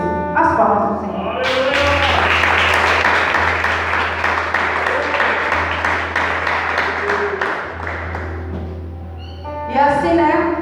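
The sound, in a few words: congregation applause at church service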